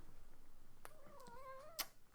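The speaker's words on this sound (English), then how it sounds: "well, here's my kitty" A house cat gives one drawn-out, wavering meow, faint and close in a quiet room, with a couple of soft clicks before it and a sharp tap just after.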